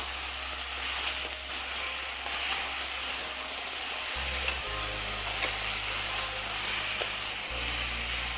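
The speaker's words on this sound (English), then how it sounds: "We now add half a cup of chopped tomatoes. Mix it in." Chopped tomatoes hiss and sizzle in a hot pan while being stirred, a steady broadband fry with scraping stir sounds, joined by a low humming drone in the second half.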